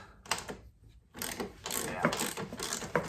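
A 9/16 wrench works a stiff wheel bolt on a lawn mower with a sticking wheel, giving close metallic ratcheting clicks and clanks in short bursts, with some brief handling noise between them.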